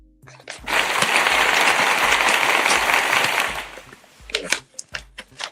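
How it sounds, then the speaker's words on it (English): A round of applause rises abruptly, holds as a steady dense wash of clapping for about three seconds, then thins out into a handful of scattered individual claps. "Fabulous result. Round of applause."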